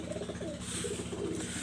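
Female pigeons give a steady run of soft, low cooing, close and continuous, with no talk over it.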